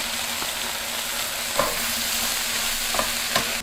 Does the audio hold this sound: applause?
no